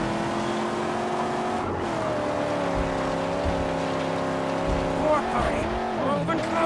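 Car engines in the Mad Max video game hold a steady, humming drone, then swoop up and down in pitch toward the end as the vehicles rev and turn.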